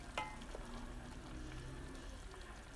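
Peppers simmering in sauce in a pot while being stirred, a soft continuous bubbling sizzle with a faint scrape of the spoon, quiet and close.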